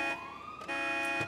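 In Grand Theft Auto 5, a set-off car alarm sounds as a steady, moderately quiet electronic tone that sweeps upward, then jumps to a new pitch with a harsh repeating pulse.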